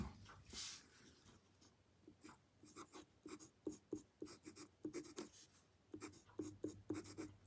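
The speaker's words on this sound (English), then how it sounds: "Rhodia paper will do the writing example, the writing sample." A Benu Euphoria Hallowed Harvest limited-edition fountain pen scratches across Rhodia paper in close, faint, irregular strokes, with a steady rhythm of short scribbles.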